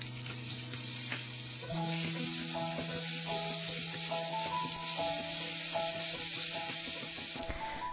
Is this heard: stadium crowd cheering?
no